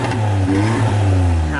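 A van's engine revs loud and close with a raspy burble from a small exhaust leak, the pitch holding steady and then rising slightly, with no talk over it.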